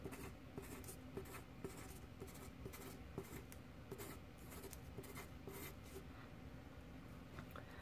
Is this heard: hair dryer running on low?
no